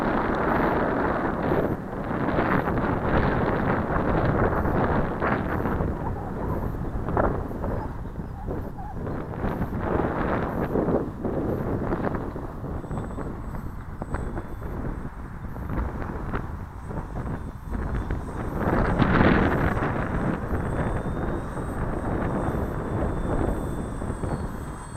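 Strong wind gusting at an RC model flying field, a continuous loud roaring rumble buffeting the microphone for the whole stretch, swelling and easing slightly, with a faint high whine of a model aircraft in the distance.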